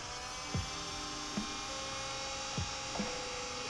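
An electric nail e-file drill runs at 7,000 RPM, a steady high-pitched whir with layered tones, broken by four short dips as the bit catches or slows, close and alone.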